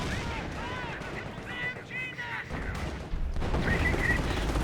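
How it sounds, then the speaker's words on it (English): Company of Heroes 1 battle, Wehrmacht versus British, with a bundle grenade thrown amid the fighting: rattling gunfire, bursts and rumbling blasts continue throughout, building louder toward the end. "Now you see a bundle grenade being thrown in the middle of everything"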